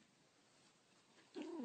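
A cat gives a short, faint meow-like call near the end of a quiet stretch, alone with no talk.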